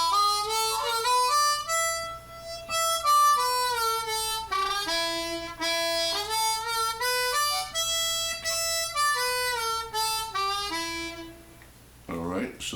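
Harmonica runs through the blues scale in a steady stream of sustained, bent notes, climbing and falling in phrases, loud and close, playing alone for most of the stretch before a brief scuffle of noise at the end.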